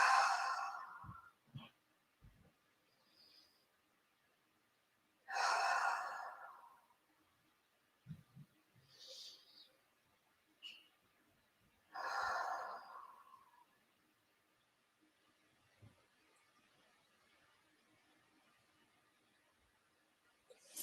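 Slow, deep breaths during a yoga pranayama session, three long audible exhales spaced several seconds apart with a few faint softer breaths between, close and quiet with no talking.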